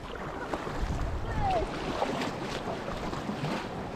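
Kayak paddled along the shore of Lake Baikal, giving a steady broadband wash of water and wind noise with soft splashy surges, close and moderately loud, with no talking.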